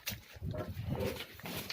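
Pigs on a farm grunt and snuffle in short, low bursts, faint and close, with no clear talk over them.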